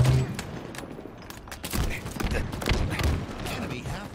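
Rapid bursts of gunfire in the video game Halo Infinite, a string of sharp overlapping shots and booms of shifting loudness. A voice is heard briefly under the firing.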